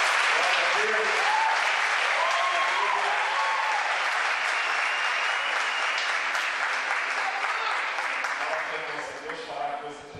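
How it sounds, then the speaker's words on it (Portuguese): A church congregation at an evening conference service applauds, a dense sustained wash of clapping that carries on for several seconds before gradually thinning out, with a few faint voices mixed in. "Dá salva de palmas ao Senhor"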